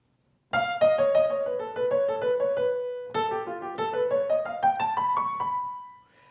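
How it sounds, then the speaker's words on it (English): Solo piano improvising a melodic line on a whole tone scale, two flowing phrases of single notes over a low sustained bass, the second climbing upward and ending on a held note. "I'm now going to improvise using a whole tone scale, and we'll just try a whole tone scale line by itself"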